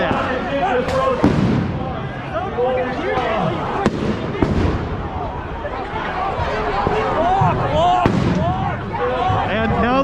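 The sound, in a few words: police flashbang grenades going off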